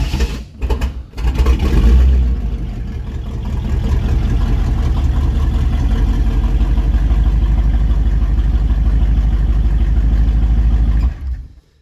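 A 1954 Cadillac rat rod's engine cranks briefly, catches with a loud rev, then settles into a steady, loud rumbling idle that cuts off abruptly near the end.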